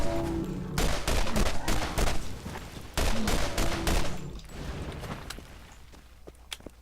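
Rapid bursts of gunfire from the incendiary Swatter in Borderlands, a pistol-like weapon, sharp repeated shots in clustered volleys, loud and close, thinning out toward the end with a few scattered cracks.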